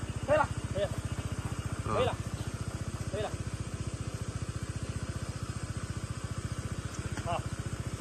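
A Kawasaki road motorcycle engine chugs steadily and close at low revs on a steep off-road hill climb, an even rapid pulse throughout with a few short bursts of louder revving, while people speak briefly over it.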